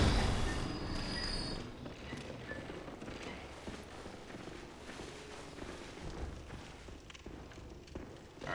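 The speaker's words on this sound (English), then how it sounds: "Whose horse is that?" Horse hooves clip-clop in Bloodborne, a dense, noisy game soundscape where the steady hoofbeats blend with other thuds and rumbling at moderate level throughout.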